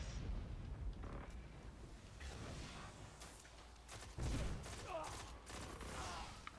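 Fusion rifle fire and explosions during a Destiny Crucible match, bursts of heavy blasts and whooshing discharges crowding a loud battle mix, with brief talk underneath.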